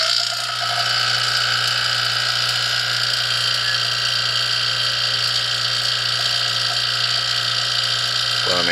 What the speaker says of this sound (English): turn the vacuum pump back on just so we can bring it down a bit more